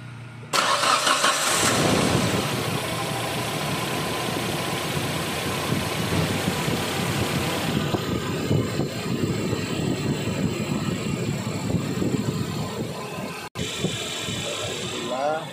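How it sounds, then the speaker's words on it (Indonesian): A Suzuki Escudo 1.6 engine cranks and catches on the first try, then settles into a steady, close idle with a faint whir over it. "Mesin hidup, sekali starter langsung bisa hidup ya."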